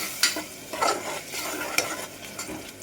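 Ginger, garlic and coconut paste frying in a pan for rajma curry, stirred with close, repeated scraping strokes over a steady sizzle.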